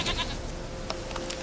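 A goat bleats a few short times in The Witcher 3, the calls fairly faint against a steady game ambience with no talk.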